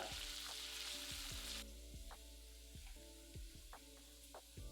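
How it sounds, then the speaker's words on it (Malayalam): Mustard seeds, chopped ginger and green chilies fry in hot oil for a garlic pickle, starting with a quiet hiss that soon drops away, followed by a run of sharp, evenly spaced pops and taps. "ചൂടാകുമ്പോൾ 1/2 ടീസ്പൂൺ കടുകിട്ട് പൊട്ടിക്കുക"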